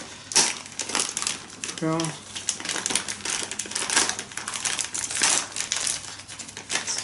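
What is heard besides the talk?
ripping open packaging of African violet plant delivery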